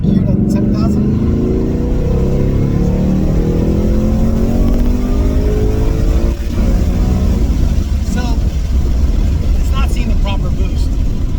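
A 2019 Ford Mustang GT pulling hard in third gear toward 7,000 rpm on a road in Mexico, a loud, continuous rising engine roar heard from inside the car, with a voice speaking over it.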